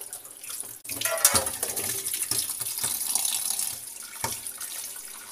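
Sugar palm fruit (kolang-kaling) being washed in running water, a steady tap stream splashing into a basin with occasional knocks and sloshes of the fruit being handled, close and continuous.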